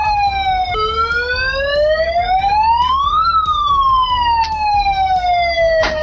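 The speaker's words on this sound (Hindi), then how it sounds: "जिसके बाद खतरे का सायरन बजने लगा।" A wailing danger siren sounds aboard a boat moored off Tunisia after a drone strike sets it on fire, its pitch sweeping up and down in long loud glides that run steadily without a break.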